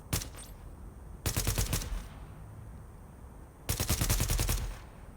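A suppressed SCAR rifle with a scope fires in The Division video game in three separate bursts of rapid automatic shots, each lasting about a second, loud and close, with quiet gaps between them.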